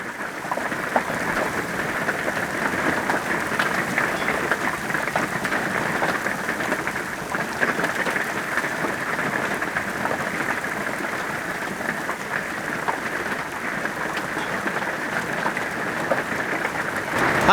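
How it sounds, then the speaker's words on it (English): Heavy, torrential monsoon-like rain pours down continuously, a dense hiss of drops drumming on surfaces with no pauses, loud and close throughout. "this is definitely a monsoon."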